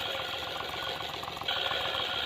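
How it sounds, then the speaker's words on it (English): A Hot Wheels toy car plays a buzzing, rough, cammed engine sound that idles steadily with a choppy, uneven rhythm, heard close and continuous throughout. "Got that nice cammed, choppy sound."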